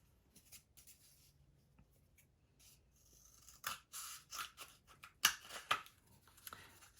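Scissors cut a cardboard kitchen-towel tube for a marble run: soft, quiet scraping snips that come sparsely at first, then in a denser run of crisp cuts near the end.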